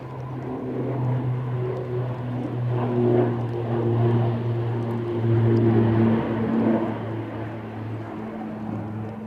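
A small Loganair propeller aircraft at Manchester Airport drones steadily nearby on a stormy day, its engine tones holding level and swelling slightly mid-pass, with wind noise underneath and no voices.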